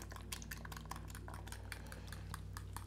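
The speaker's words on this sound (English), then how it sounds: "now we're going to pour this right into the center and stir it as we go along" A utensil stirs pancake batter in a pan while cooking homemade pancakes: quick, irregular clinks and scrapes over a low steady hum, faint and close.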